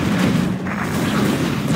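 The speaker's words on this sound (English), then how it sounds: "You'll see a big explosion!" A loud, sustained explosion roar from the real-time strategy game Command & Conquer Generals Zero Hour, rumbling continuously with dense low-end boom through the whole moment, no speech.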